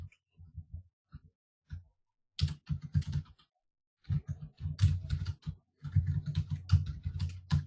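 Quiet, uneven bursts of clicking keystrokes on a computer keyboard, with short pauses between runs of typing and no voice present.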